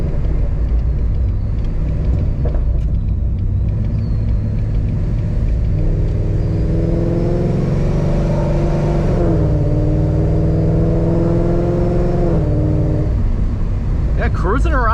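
A 700 hp Ford Mustang with a Corsa sport exhaust rumbles loudly and rises in pitch as it revs, then settles back to a deep idle, close by with a throaty exhaust tone.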